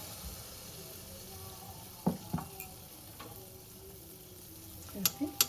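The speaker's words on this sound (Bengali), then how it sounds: "আর একটা কড়াইতে আমি তেলও বসিয়ে দিয়েছি, দিয়ে দিচ্ছি এখানে 1 চামচ মতো মালপোয়ার জন্য।" Malpua batter fries in hot oil in a wok, a steady close sizzle broken by a few sharp clicks and taps of a utensil, with no talking.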